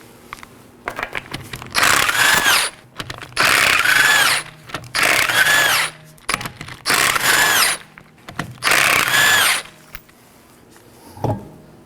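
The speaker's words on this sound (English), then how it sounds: "Now let's go ahead and remove our left rear wheel. It is 5 19mm lug nuts." A power tool, likely an impact wrench, zips off the five 19mm lug nuts on the left rear wheel of a 2018-2024 Chevrolet Equinox in five loud, close bursts of about a second each, with short pauses between them.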